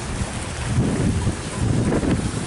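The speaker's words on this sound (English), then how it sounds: "It's cold. It's windy." Wind blowing hard outdoors on a cold day, a steady low roar of gusts buffeting the microphone, rising slightly midway and holding fairly loud throughout with no voices.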